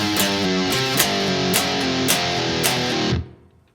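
Heavy distorted electric guitar chugs through a bridge riff in D standard tuning, with power chords sliding down chromatically on the low string and sharp accents roughly every half second, loud and alone before ringing out.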